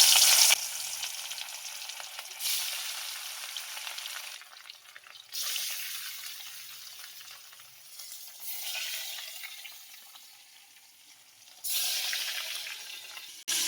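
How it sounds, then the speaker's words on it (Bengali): Pieces of rohu fish sizzle and spit in hot oil in a wok, a continuous crackling fry that swells and fades in waves as the pieces are stirred, with no voices. "তেল গরম হয়ে গেছে, আমি মাছগুলো দিয়ে দিচ্ছি।"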